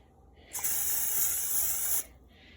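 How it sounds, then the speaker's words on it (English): Cooking spray hisses onto a hot bread pan in one steady, bright burst lasting about a second and a half, close and fairly loud, then cuts off sharply, with no voices. "I do want to spray it down before I put my bread in because my bread has no oil, so it might stick and it's gonna hiss."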